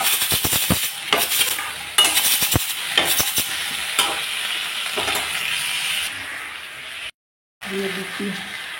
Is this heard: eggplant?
yes